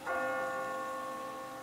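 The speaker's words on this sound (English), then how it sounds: "I just got spooked by those bells" In The Walking Dead video game, Chapter 4, a single bell strikes and then rings on with a long, humming decay, heard alone at a moderate distance.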